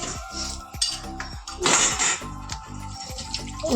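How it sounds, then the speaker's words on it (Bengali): Chow mein noodles being rinsed in cold water, with clattering pots and clinking utensils around a running tap, splashes swelling midway over a steady low kitchen hum. "ঠান্ডা জলে একটু ধুয়ে দিয়ে দাও"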